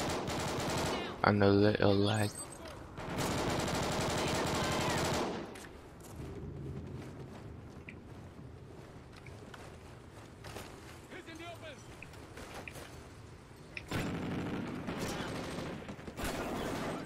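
Bursts of automatic gunfire and rapid shots from the Call of Duty Ghosts video game erupt in dense volleys, loud at first and then continuing more quietly behind a player talking.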